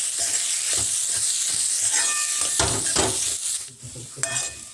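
A spoon stirs a spiced potato mixture with salt, garam masala and pav bhaji masala in a hot pan, making irregular scraping strokes over a soft sizzle, close and fairly loud, with no talking.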